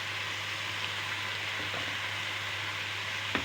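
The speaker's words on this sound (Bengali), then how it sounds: "এবার তরকারিটা আমি একটু ভেজে নেব, হালকা একটু ভেজে নেবে" Vegetable curry frying in a pan, a steady soft sizzle with a constant low hum beneath and a faint clink of stirring near the end.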